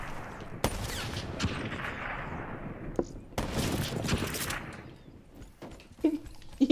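Gunfire in Black Ops 3 during a sniping match: a loud crack followed by a long, fading rumble of fire, then another heavy burst, and smaller clicks and knocks trailing off.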